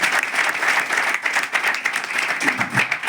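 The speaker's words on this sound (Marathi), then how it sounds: "त्यांच्यासाठी एक जोरदार टाळ्या वाजवा" An indoor award ceremony crowd gives sustained applause for recipient Dilip Satam, with dense steady clapping at full volume throughout and no voices standing out.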